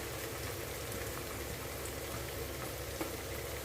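Mushrooms with garlic sautéing in oil in a pan, giving a steady, close, dense crackling sizzle that holds evenly throughout with no voices.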